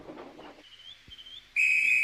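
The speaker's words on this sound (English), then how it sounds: "Oh, that's my guard's whistle." After a brief hush, a loud, piercing train guard's whistle blast rings out and holds steady, preceded by a fainter, thinner whistle tone.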